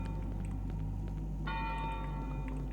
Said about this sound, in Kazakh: Қоңырау.